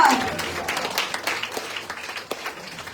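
A congregation at a Sunday evening retreat claps for the Lord. The clapping is loud at first and then fades into scattered claps, with some voices mixed in.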